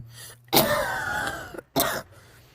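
Two harsh, close coughs from a woman, the first longer and rasping, the second short and abrupt after a brief pause, with no talk over them.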